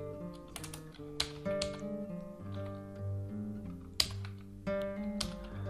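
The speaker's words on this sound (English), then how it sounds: "So we type" Code being typed on a computer keyboard in Android Studio, a steady run of close, soft key clicks with occasional louder taps and no talking.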